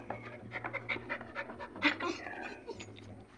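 Two puppies pant rapidly and close by in short rhythmic breaths, with a voice speaking over them.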